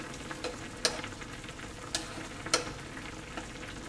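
Small chicken nuggets fry in a pan, a soft, even sizzle with a few sharp clicks and taps of a utensil against the pan, fairly quiet and with no talking.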